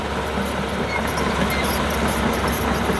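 A Kobelco SK045 excavator, an older model with a turbo direct-injection engine, idles in a steady, continuous diesel rumble that stays close and even, with no talk over it.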